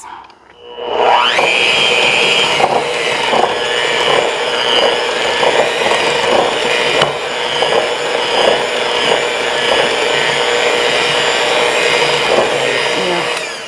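Fruitcake cookie batter with a freshly added egg is beaten in a bowl, giving a loud, steady motor-like whirr that runs continuously with no talking.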